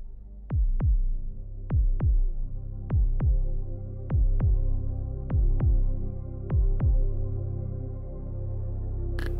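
Slow, steady heartbeat of a meditation track, double thumps repeating about every 1.2 seconds over a soft low hum, close and clear with no talking.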